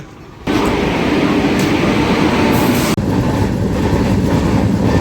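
The Saurashtra Mail train rumbles loudly and steadily close by at Dwarka railway station, wheels clattering on the rails, with a brief break in the noise partway through.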